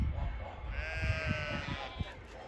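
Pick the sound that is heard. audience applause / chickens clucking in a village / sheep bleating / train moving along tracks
sheep bleating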